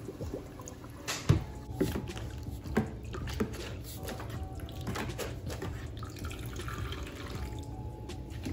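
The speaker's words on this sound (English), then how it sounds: "Pouring out the dirty water." Dirty water from an old O-Cedar mop bucket being poured out indoors, giving quiet, uneven splashing and trickling with a few sharper splashes near the start.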